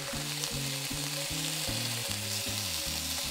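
Pork slices sautéing in a pan, a steady loud close sizzle that runs unbroken, with a low rhythmic hum under it and no voices.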